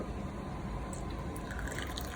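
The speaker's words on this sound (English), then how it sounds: "So put the hot water" Hot water poured into baking soda makes a steady liquid stream, close and moderately loud, with some faint dripping and splashing toward the end.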